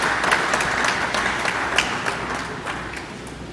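An audience gives a steady round of applause at a GPF 184th anniversary police award ceremony, dense overlapping claps filling the room throughout with no voices.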